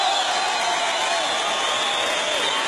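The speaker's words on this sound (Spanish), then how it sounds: "Un aplauso fuerte para Lucumí." A television studio audience applauds and cheers continuously for comedian Lucumí on a variety show, a dense, loud, even wash of clapping with no pauses.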